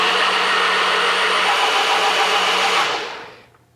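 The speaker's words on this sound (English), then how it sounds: "Now you want to blend until smooth, or whatever adjective your particular machine uses." A kitchen blender whirring steadily as it purees a pomegranate and prune sauce for braised short ribs, a loud continuous motor drone that winds down and stops after about three seconds.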